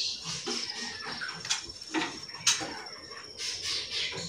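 Faint chirps and high twitters from magpie robins and canaries inside a breeding aviary, scattered brief calls with light rustling and patter in the background.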